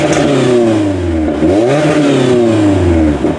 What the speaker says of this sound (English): Here's a quick exhaust clip.